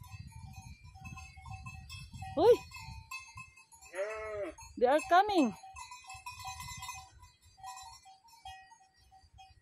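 Sheep bleat several times in a Swiss summer pasture near Herisau, loud and close, with cowbells clanking steadily in the background and a person calling out briefly.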